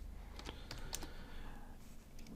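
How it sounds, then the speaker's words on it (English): Steady clicking keystrokes on a computer keyboard while coding a bot, soft and close, continuous with a few sharper taps, no voice. "This is a lot of typing"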